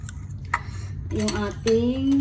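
A whisk or spoon clinks and scrapes around a bowl while wet ingredients for a low-carb keto donut batter are stirred, with light rhythmic tapping and a brief voice partway through.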